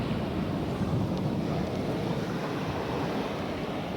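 Waves wash onto the sand beside a pier at Bognor Regis beach, a steady, loud roar of surf mixed with buffeting wind noise on the microphone, with no voices.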